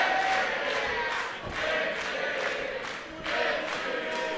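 A wrestling crowd in Thornbury cheers and shouts at a moderate distance in swelling waves, rising and dipping in several surges, with no clear talk on top.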